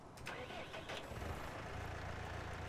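A tractor engine cranks and fires up in the Farming Simulator 2019 video game, catching quickly and settling into a steady mid-pitched idle rumble, with some voice in the background.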